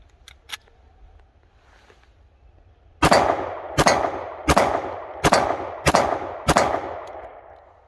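Six loud, sharp 9mm pistol shots from a Glock 17 / M&P Shield, fired with expansion primers in a steady rhythm less than a second apart. Two faint clicks come just before them.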